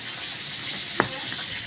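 Chili chicken sizzles and fries steadily in a pan as it cooks for a long time, a continuous close hiss with one sharp clink partway through.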